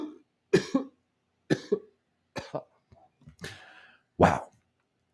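A person coughs in a series of separate, close, sharp bursts, about six hacks spaced irregularly with short silences between them, one deeper and louder near the end.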